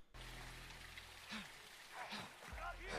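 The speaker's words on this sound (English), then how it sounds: "It's raining fucking hard." Heavy rain pours steadily through a tense house scene in the Call of Duty Modern Warfare 2 campaign, a dense constant hiss under low rumble, with voices speaking over it at a few points.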